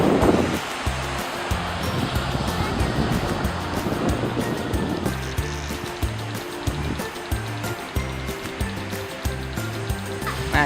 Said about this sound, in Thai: ตอนนี้เราอยู่ที่ชายหาดทะเลบางแสนนะครับอันนี้คือบรรยากาศโอ้ยคลื่นแรงมากเลยอ่ะ